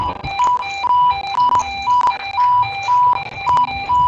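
Repeating electronic beeps from a SCADA monitoring system for leaks in water distribution pipes, sounding in steady pulsed bursts about every half second while flow readings stabilise, loud and close with no talk.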